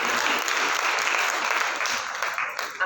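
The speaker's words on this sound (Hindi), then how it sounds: "अपने स्वागत के लिए स्वयं ताली बजाएंगे।" Audience applause at a Hindi spiritual talk on forgiveness in Panipat, a dense, steady wash of many hands clapping that fades slightly near the end, with no talking over it.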